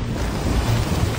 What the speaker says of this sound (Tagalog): Naglalakihang alon, humampas sa dalampasigan.